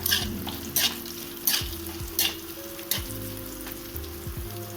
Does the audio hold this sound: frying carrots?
yes